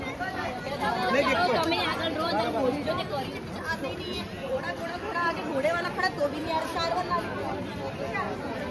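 Dense crowd chatter fills a busy Sunday market in Matheran hill station, a steady close babble of many overlapping voices with no single speaker standing out.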